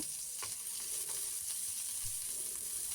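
Cabbage frying lightly in a pan with green chilli, giving a faint, even sizzle with occasional soft scrapes of stirring.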